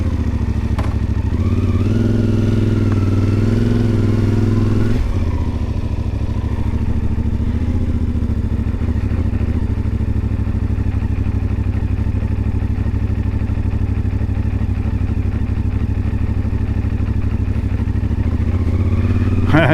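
A CFMoto Ibex 450 motorcycle engine runs chuggy and uneven, loud and close, with a continuous low rumble throughout and a shift in tone a few seconds in.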